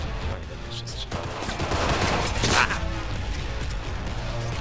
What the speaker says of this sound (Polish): Fajnie, jeszcze strzelam.